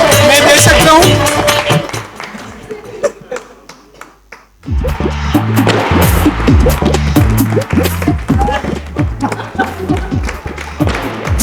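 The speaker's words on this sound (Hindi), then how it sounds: "मुनमुन दत्ता जी के लिए जोरदार तालियां प्लीज" Applause at a press conference for an Indian TV comedy series' anniversary, in honor of actress Munmun Dutta, bursts of clapping and thuds mixed with crowd noise and voices, briefly dropping quiet midway before resuming strongly.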